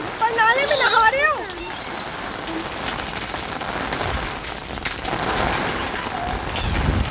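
Heavy downpour in Karachi hisses as a dense, steady roar of rain on surfaces, loud throughout, with a voice speaking briefly near the start.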